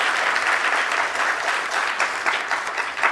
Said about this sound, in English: Could we have another big round of applause to Professor Da Silva?